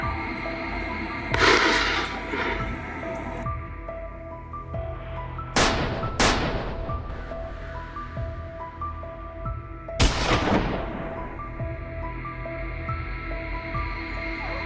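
Gunfire during a wild boar hunt near a stream: a few sharp shots, some in quick pairs, each trailing off in an echo over a steady background hum.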